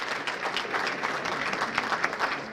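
Audience applause fills a hall of fame induction ceremony for a high school athletics program, a steady dense clapping from a large crowd indoors, sustained and fairly loud throughout.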